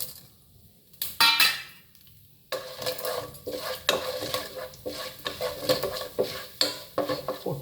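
Roasted gram, urad dal and cashews frying in hot oil after mustard seeds, with the spoon stirring and clinking in the pan. The pan is quiet at first, then a scrape sounds, then steady sizzling and stirring runs on to the end.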